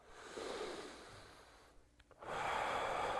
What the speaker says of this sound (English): breathing in and out of your nose, focusing on your breathing